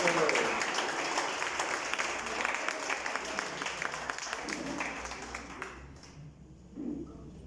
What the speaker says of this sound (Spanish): Muy bien, démosles un aplauso.